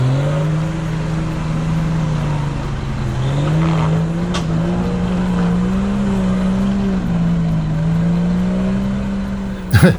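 A Land Rover Discovery D1 engine labours steadily up a muddy off-road forest track at Pureora, a loud close drone that rises and falls slightly in pitch over the full length, with a brief clunk at the end.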